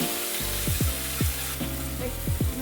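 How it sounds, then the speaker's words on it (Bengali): Milk goes into a hot, sizzling pan to simmer while making chicken salad, producing a constant loud hiss with some tonal, whistling sounds over it. "সিদ্ধ হওয়ার জন্য দুধ দিয়ে দিতেছি"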